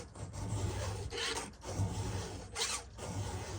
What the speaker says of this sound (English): I kind of like the one-handed filing on this square, though.